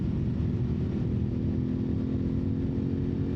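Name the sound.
Aprilia Tuareg 660 adventure motorcycle riding on mountain road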